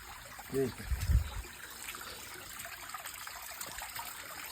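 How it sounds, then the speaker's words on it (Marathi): Water from a natural spring trickles and babbles steadily nearby in muddy Konkan terrain, with a brief low thump and a short murmur of voice early on. "तर हा कसा जिवंत झरे आहे"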